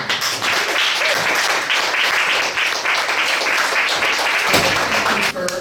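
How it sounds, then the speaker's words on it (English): A house-show audience gives poet Concetta a big round of applause, a loud, continuous clatter of many hands clapping nearby that carries on for several seconds before breaking off at the end. "A big round of applause for Concetta."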